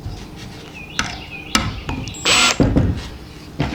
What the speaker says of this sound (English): final scribe mark and drive a screw